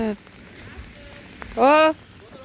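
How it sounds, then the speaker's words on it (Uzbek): Steady morning rain falls outdoors as a soft, even hiss, with a voice briefly speaking over it. "Ertalab qarasam, yomg'ir yog'yapti."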